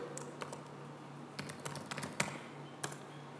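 A password is typed on a computer keyboard: faint, scattered key clicks in irregular bursts over a quiet room hum, close but soft.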